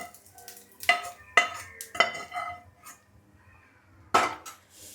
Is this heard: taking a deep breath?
no